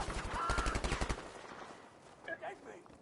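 Rapid automatic gunfire from a competitive team video game match rattles out in a dense burst for about a second, then cuts off, with a voice talking faintly afterward.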